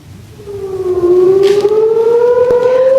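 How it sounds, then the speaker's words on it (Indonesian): An air raid siren wails over Tel Aviv during an Iranian air attack, its tone rising steadily as it winds up and holds loud and sustained, with a sharp thud midway. "warga Israel ketakutan saat sirine beraung di udara"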